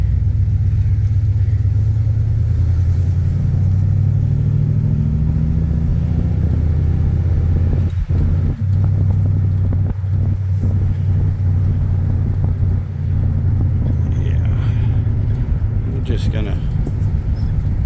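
A 1992 Mercedes W250 drives along with a loud, steady engine rumble, the pitch rising and dropping as it shifts gears, while a person talks over it.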